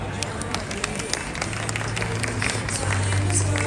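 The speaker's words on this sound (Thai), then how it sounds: "ปรบมือดังๆต้อนรับคุณพ่อคุณแม่ของทั้งสองครอบครัวด้านบนเวที" Guests at a Thai wedding clap as both families' parents are welcomed onto the stage, a dense, steady wash of applause and crowd murmur with a low musical hum running underneath.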